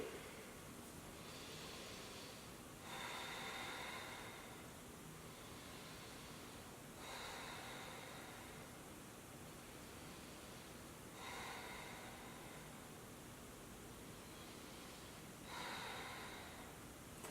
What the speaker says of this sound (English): Inhale and then exhale, forward fold